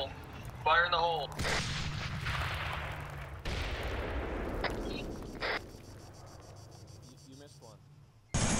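Blast charges go off after a warning shout, with two sharp, heavy booms and long rumbling decays, surrounded by voices and a high, chirping, insect-like background.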